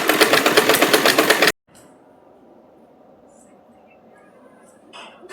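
A sewing machine topstitches joined kurti panels in a loud, rapid pulsing run of stitching for about a second and a half. It then stops abruptly, leaving a quiet room hum and a few faint clicks.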